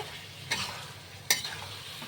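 Vegetables stir-fried in masala for an onion- and garlic-free vegetarian biryani with fried potatoes and soybean chunks, heard as a quiet background sizzle with two distinct scraping strokes of the spatula.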